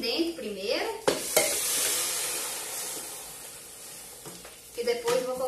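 Water poured into a hot pot holding browned free-range chicken on a wood-fired stove bursts into a loud steady sizzle and hiss that slowly fades, with stirring scrapes and a short voice at the start and end.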